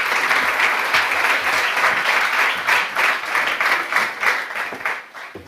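An audience at a conference on energy transition policy applauding to welcome a minister, a dense, steady wash of clapping from a large crowd that holds strong throughout and tapers slightly at the end.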